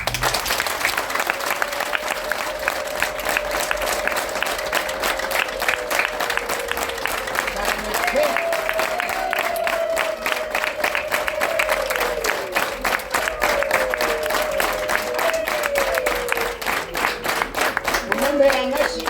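An audience breaks into sustained, dense applause that stays loud and even throughout, with a voice carrying over the clapping.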